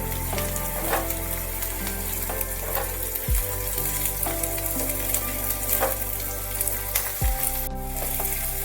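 Chopped onion and capsicum fry and sizzle steadily in a pan while smoky paneer bhaji is made at home, a continuous close, loud crackle with a couple of clatters as the vegetables are added and stirred.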